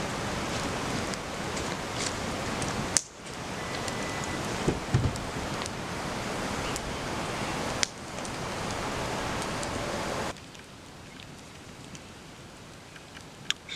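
Rain from a passing storm pours steadily on a mountainside campsite near the Nehalem River, a dense close hiss broken by a few sharp knocks, then easing to a quieter patter near the end.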